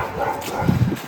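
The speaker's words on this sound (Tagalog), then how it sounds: "May aso." A small dog yips and whimpers a few times at close range, with soft background noise around it.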